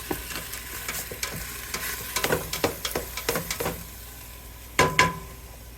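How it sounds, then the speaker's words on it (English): Ground beef and onions browning in a frying pan for goulash, with a steady low sizzle broken by scattered scrapes and clacks of a utensil stirring, and a sharper clatter near the end. "Now this I will cook until the meat is browned and tender."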